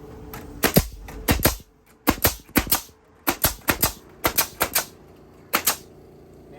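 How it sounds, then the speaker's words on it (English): A hammer drives nails into a wooden pallet piece for a chicken coop: loud, close, sharp strikes in quick bursts of two to four blows separated by short pauses. "Nailed in."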